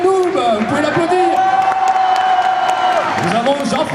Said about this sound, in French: Nous avons Arthéon des Noobs, vous pouvez l'applaudir.